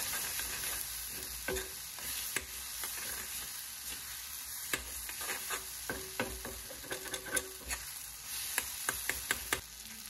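Egg and tomato stir fry sizzles in a pan over a medium gas flame while a spatula scrapes and stirs it, with a steady frying hiss and repeated sharp taps and scrapes close up.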